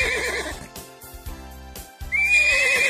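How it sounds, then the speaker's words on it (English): A horse neighs loudly in two whinnies, one at the start and one near the end, with a musical backing underneath. "A horse lives in a stable."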